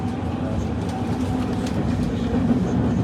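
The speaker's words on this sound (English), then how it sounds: "Here I am arriving into Port de Montreal after passing through a monumental amount of metro stations" A Paris Metro train pulls into Porte de Montreuil station with a steady, loud, close rumble of wheels and carriage noise that holds unbroken throughout.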